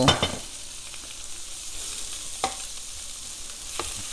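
Peppers and onions frying in olive oil beside Italian sausage, a close, even sizzle with a few sharper stirring scrapes at the start and now and then after.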